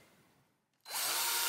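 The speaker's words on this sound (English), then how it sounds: "we're going to drill three holes in each one of these T-nuts" A power drill bores holes for T-nuts in a license-plate guitar body, starting abruptly after a near-silent pause and then whirring loud and steady.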